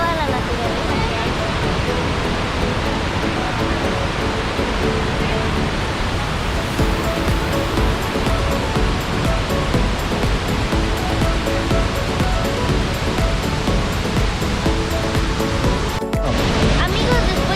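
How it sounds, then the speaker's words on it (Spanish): The large waterfall at the Agua Azul cascades in Chiapas gives a steady, loud, close rushing roar of falling water that fills the scene without a break, with faint voices mixed into the noise. "detrás mío hay una gigante cascada. Y de todos lados sale agua."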